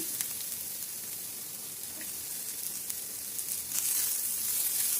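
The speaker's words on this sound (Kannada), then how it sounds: "ಇದನ್ನು ಲೈಟಾಗಿ ಈ ಥರ ಫ್ರೈ ಮಾಡ್ಕೊಳ್ಳೋಣ." Green chillies sizzle and fry with onions in a hot pan, a steady close crackling hiss that swells slightly louder toward the end, with no one talking.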